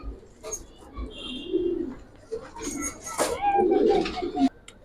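Giribaz pigeons coo in a loft, low murmuring calls repeating in bursts over a few seconds, fairly close, with faint background noise and a brief voice.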